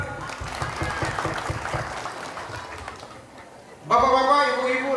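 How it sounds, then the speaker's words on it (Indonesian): A crowd at a village campaign rally in Aceh Singkil claps in a busy, moderate burst for almost four seconds, with voices mixed in, before a loud amplified voice takes over. "Oke, tepuk tangan."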